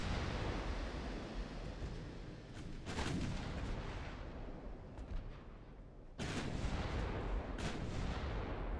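Warship secondary guns firing in Ultimate Admiral Dreadnoughts, heavy booming shots over a constant roaring sea-like background, with distinct blasts around the middle and later.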